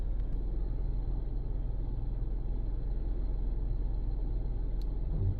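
An 11 Hyundai car pulls away from a traffic light with a steady, close low engine rumble that holds constant throughout, heard from inside the cabin, with no talking.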